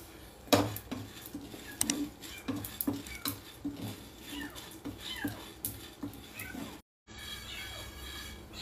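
Urad dal and other lentils roasted for a spinach powder, stirred with a metal spoon in a pan, producing repeated clinks and scraping taps in an uneven rhythm, with occasional talk alongside.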